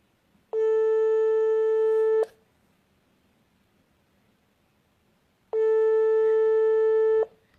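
A telephone busy signal during a phone call gives two loud, steady electronic tones, each about two seconds long, separated by a quiet gap.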